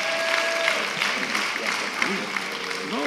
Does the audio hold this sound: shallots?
no